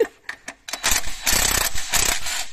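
Rapid ratchet wrench clicking while loosening alternator bolts on a 1985 Citroën BX Break 16 RS, starting as a few separate bursts, then turning into dense, continuous ratcheting close up.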